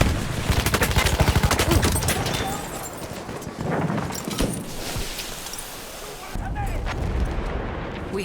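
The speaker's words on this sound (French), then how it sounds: "Là, mitrailleuse ennemie." Rapid bursts of enemy machine gun fire from Battlefield 1's Nivelle trench battle crackle loudly at first, then continue as scattered shots and rumbling battlefield din, with game voices over the fighting.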